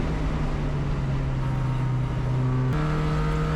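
A Spec Miata race car's engine drones loud and steady at Blackhawk Farms Raceway. Its pitch holds, then jumps once as the gear changes.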